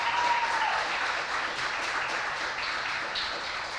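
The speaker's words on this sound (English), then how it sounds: "give everyone a round of applause." Moderate applause from an audience at a school National Honor Society induction and awards ceremony, an even, continuous clapping that carries on for a few seconds in a hall.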